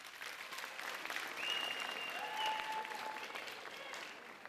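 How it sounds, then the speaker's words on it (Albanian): Strong applause from a large audience at the Miss Universe Albania pageant for its six finalists, steady continuous clapping with a few faint whistles. "Një duartrokitje shumë të fortë për 6 finalistet tona."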